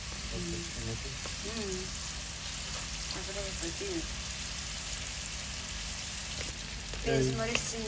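Shrimp sizzles steadily in oil in a pan, a close, continuous crackle that runs under a woman's speech throughout, with a brief stir near the end.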